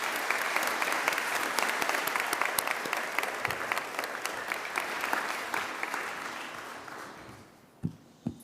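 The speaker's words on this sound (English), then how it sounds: "Please give them a big round of applause." Graduation ceremony audience applauding at a university, sustained dense clapping from a large crowd that gradually thins and fades out near the end, with a couple of final isolated claps.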